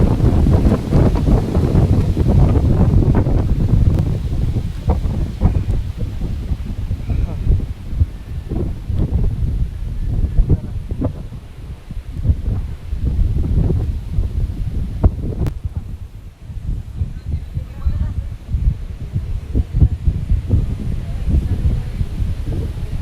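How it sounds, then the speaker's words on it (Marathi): Strong gusty wind buffets the microphone with loud, roaring low blasts that barely let up, with faint voices underneath, on the climb up Asheri Fort. "वारा तर खूपच जास्त आहे."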